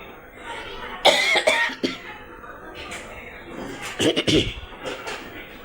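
Several sharp coughs, one burst early and a cluster later, with throat-clearing sounds and a voice murmuring between them.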